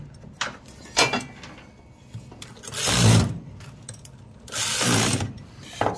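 A right-angle drill tightening bolts on a Snapper RE110 riding mower gives two loud, close bursts of whirring and ratcheting about two seconds apart, with faint clicks and handling noises between them.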